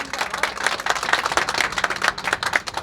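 Steady clapping from an audience at a political talk about election candidates, dense and continuous at moderate loudness throughout, with no voices over it.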